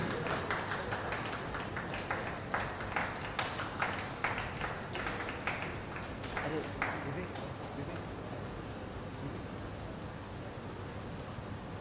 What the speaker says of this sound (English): Can we please have a round of applause for our second place, Pooja Aarti Raghu and Ratika Seelan.